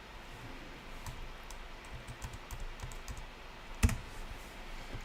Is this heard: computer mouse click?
yes